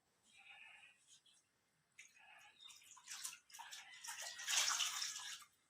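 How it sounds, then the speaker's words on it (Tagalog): Cloth being washed and wrung in a basin of water during a bed bath, with intermittent splashing and dripping bursts, loudest near the end, close by and with no talk. "So wash the cloth"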